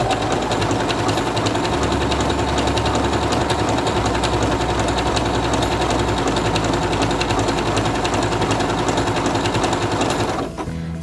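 A Singer Quantum Stylist 9960 sewing machine stitches a mirror-image pattern, its steady loud motor whir and rapid needle rhythm running continuously and close up before stopping at the very end.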